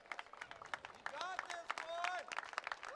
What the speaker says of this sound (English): Getting a nice round of applause from the crowd.